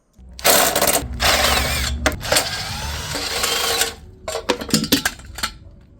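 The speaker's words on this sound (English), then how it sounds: "let me quickly loose off these." A wrench loosens 8mm bolts on the recoil starter of a Westinghouse WPX3400 gas generator. Loud, close rapid ratcheting runs in sustained bursts, then breaks into shorter clicking spurts, with no speech.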